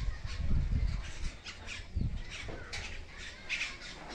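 Several birds squawk and chatter in a tree a short distance away, harsh calls overlapping irregularly over a low background rumble.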